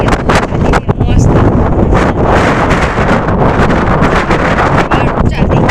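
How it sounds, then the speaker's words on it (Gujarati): Strong wind on a hilltop roars steadily into the microphone, a loud, continuous buffeting rush with muffled voices faintly underneath. "પવન એવો જોરથી આવે છે ને."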